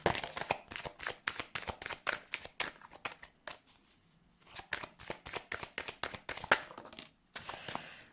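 Haiku oracle cards are shuffled up close in quick, crisp riffling bursts. Short pauses separate the bursts, and no one speaks.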